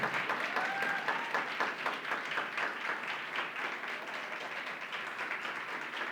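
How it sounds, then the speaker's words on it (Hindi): Continuous applause from a crowd at a church conference, steady and somewhat distant, filling the whole stretch without pause. "जोर से प्रभु के लिए ताली बजाएंगे"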